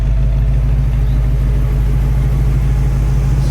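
The engine of a 1933 Ford Victoria classic car with a fiberglass body idles loudly and steadily, a deep even rumble close by with no talk.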